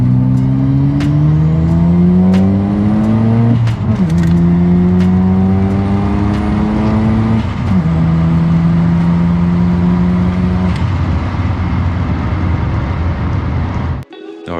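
A Mazda RX-7's engine runs loud and close, climbing in pitch through several gear changes as the car accelerates away, staying strong throughout before cutting off at the end.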